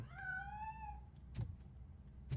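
A cat meows in the video game Robocop Rogue City: one long, rising-and-falling meow up close, followed by a couple of short dull thumps over a low background hum.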